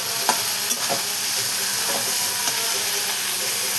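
Tomatoes stir-fried in a pan, a steady close sizzle with intermittent scraping stir strokes throughout, no talking.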